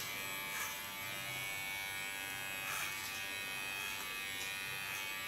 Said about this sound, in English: Take my large clipper and clipper over comb the side shape.